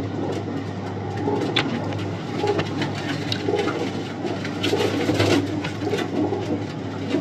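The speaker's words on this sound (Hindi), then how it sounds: "जी वकास भाई, ये कबूतरी है, ये इसका गला है पूरा, ये इसका पल्ला है।" Pigeons coo softly in a low, rolling murmur over a steady background hum, with occasional fluttering and faint rustles nearby.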